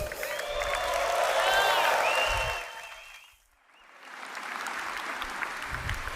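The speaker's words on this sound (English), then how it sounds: "Another round of applause for André" Steady crowd applause with some cheering, fading out briefly midway before rising again to continuous clapping.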